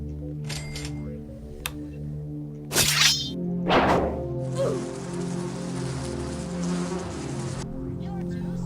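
Bees buzz at a beehive in the Roblox game Find The Doges, a steady game drone with tonal layers, broken by a few sharp clicks and whooshes and one long hissing burst in the middle.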